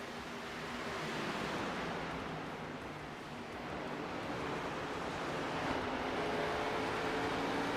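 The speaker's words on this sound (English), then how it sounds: "you can hear the engine of the number 3 giving it all she's got" A Toyota Supra stock car, number 3, roars at full throttle in a simulated Xfinity Series race at Iowa, a continuous broad engine drone that holds steady for several seconds and swells slightly toward the end, with no talking.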